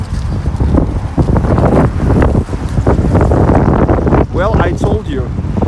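Heavy wind buffets the microphone in loud, rumbling gusts that continue throughout, with a person talking over the roar.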